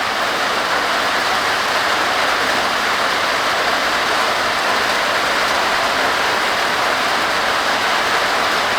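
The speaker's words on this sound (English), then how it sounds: "We got rain on a tin roof." Heavy rain drums steadily on a tin porch roof during a tropical downpour in Ohio, a loud, dense, unbroken hiss and patter up close, with no voices.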